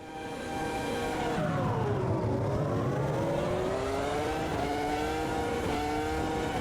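The V10 Formula 1 car in the Automobilista 2 video game gives a loud, sustained, high-pitched engine wail, dipping and then climbing steadily as it revs and accelerates, with no talking.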